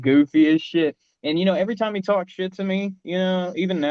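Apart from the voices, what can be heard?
No distinct noise like a dog, phone or traffic.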